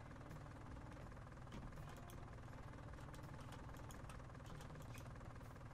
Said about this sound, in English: I really do like that little tractor here